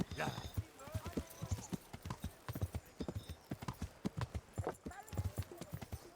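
Steady, rhythmic hoofbeats clip-clop at a trotting pace throughout, with a horse's snort near the start and faint ambient sounds behind, from the video game Kingdom Come: Deliverance.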